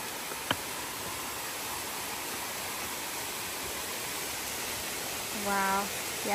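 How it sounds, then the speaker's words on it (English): A waterfall on the Appalachian Trail gives a steady broadband rush of falling water throughout, with a brief voice near the end. "I hear it, so this waterfall sounds big."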